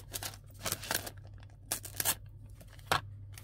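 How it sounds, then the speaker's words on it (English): Saved packaging is being cut in half, producing several close, sharp bursts of cutting and crinkling at irregular intervals over a quiet background. "I'm just gonna cut off this part, don't need that, and I'm going to cut this in half."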